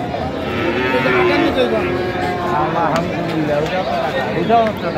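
A cow and calf at a busy rural cattle market, with lowing calls rising over a dense backdrop of crowd chatter and bargaining voices throughout.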